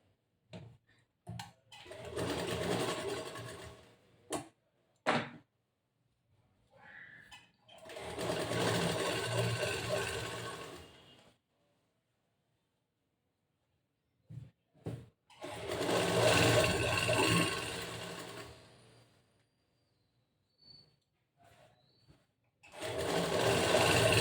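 Sewing machine stitching lining cloth for a boat-neck blouse with back hooks and puff sleeves, running in several bursts of a few seconds each with pauses between, steady buzzing whir close up, no talk.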